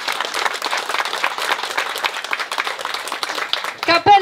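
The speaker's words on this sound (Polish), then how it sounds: "Brawa!" Applause at a Polish folk ensemble festival, dense clapping filling the room for about four seconds, with a few voices and a brief tonal sound at the very end.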